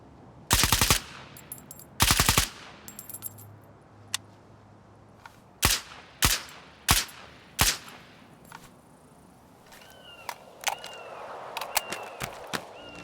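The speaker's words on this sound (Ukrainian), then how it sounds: "Далі спостерігайте за серією вибухів" Grenade explosions in the video game STALKER 2 come as a series of about ten sharp, loud blasts in irregular clusters, some close together and others spaced apart, with no speech.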